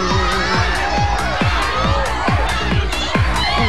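A dense crowd of children shouts and cheers continuously, loud and close, with overlapping voices and rhythmic bursts of yelling throughout.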